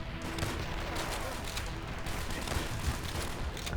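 Dense, continuous battlefield gunfire from the Call of Duty: World at War mission Their Land, Their Blood, with overlapping shots and booms forming a steady roar throughout.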